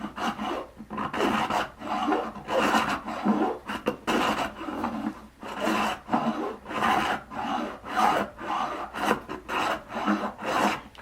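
Japanese rebate plane shaving wood in a steady series of close, raspy strokes, each a rough scraping swish with short pauses between, fairly loud with no voices.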